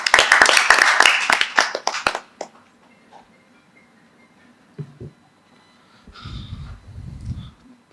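Audience claps for a speaker being welcomed on stage, with a short burst of dense clapping that quickly dies away, followed by quiet rustling and faint breathing or handling noises close to the microphone.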